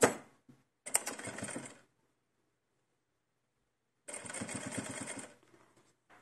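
A sewing machine stitches a small Blythe doll dress in two separate runs, each about a second long with a rapid mechanical chatter, close and clear with silence between them.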